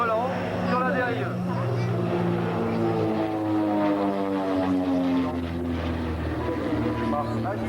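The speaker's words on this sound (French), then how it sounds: "Qui passe avec ce magnifique Fokker bien décoré, avec le Pégase volant sur la dérive." A decorated Fokker airplane flies past at a 1993 air show at Cambrai air base, its droning engine steady and loud with a slowly falling pitch as a voice comments over it.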